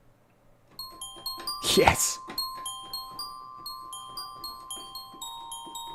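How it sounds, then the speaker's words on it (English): Retro 1990s-style synth glockenspiel patch playing a bright, bell-like melody of repeated ringing notes with long sustained tones, while a loud voice briefly talks over the start. "So here's the Glock."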